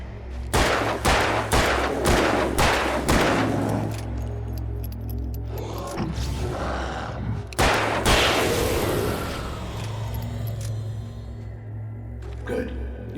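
Gunfire in Alan Wake Remastered: a rapid burst of loud, sharp shots repeating in quick rhythm, then a single heavy blast later, over a low droning game ambience.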